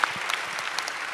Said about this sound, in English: another round of applause for our wonderful, wonderful panel for our executive talk.